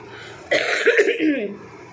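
A single raspy cough breaks out near the mic, followed by a brief throaty rumble, against a quiet background.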